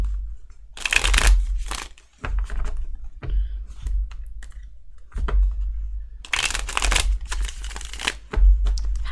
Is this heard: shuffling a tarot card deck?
yes